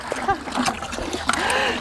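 Cold well water pumped out on a raw-land homestead splashes and trickles in short bursts, with voices chattering close by over the splatter.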